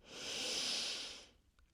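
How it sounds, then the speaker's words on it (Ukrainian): A slow, deep exhale during a relaxing yoga session for the back: one soft, airy breath out that swells and fades over about a second, quiet and close, with no talking. "І ще глибокий вдих. І видих."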